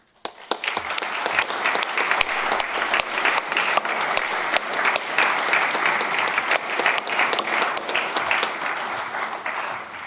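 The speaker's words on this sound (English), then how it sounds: "I think they deserve a round of applause." An audience at a school prize giving breaks into sustained applause, a dense, even wash of many hands clapping that starts abruptly and holds steady for about ten seconds.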